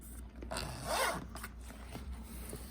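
A bag's zipper, edged with rubbery material, is pulled in a few quick, close rasping strokes, one long zip standing out, with small handling clicks around it.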